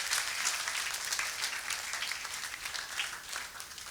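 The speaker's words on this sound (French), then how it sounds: "You can clap your hand for the Lord." A church congregation claps hands for the Lord during a service, a steady dense wash of many hands that holds an even level throughout.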